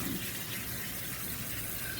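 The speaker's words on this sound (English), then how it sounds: "in the sink under some cold water, I just rinsed off all the cucumbers and onions" Cold tap water pours steadily into a sink strainer holding cucumbers and onions, a continuous close rushing splash with no pauses.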